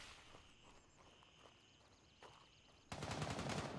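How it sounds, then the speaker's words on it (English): Rapid bursts of video-game gunfire rattle in the distance in Gray Zone Warfare, with a louder sustained volley of shots near the end over a faint background hum. "You hearing that gunfire, yeah?"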